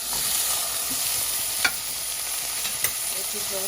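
Vegetables being lightly sautéed in a pan for white sauce pasta, a bright constant sizzle with a couple of spatula knocks, close and without talking.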